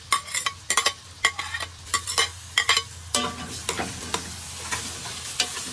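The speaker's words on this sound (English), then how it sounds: "We're adding our baigan now, our roast baigan" Roast baigan (eggplant) being stirred and fried in a pot, with repeated sharp scraping strokes of a spoon against the metal over a steady low sizzle, close and fairly loud, with no talking.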